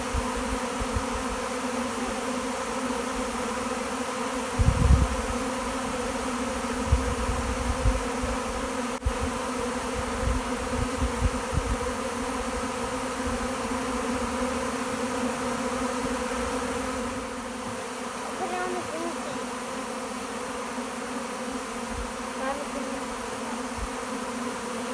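A swarm of honeybees buzzes continuously as they recluster outdoors near woods, a dense steady drone at moderate level with a few brief knocks and rustles.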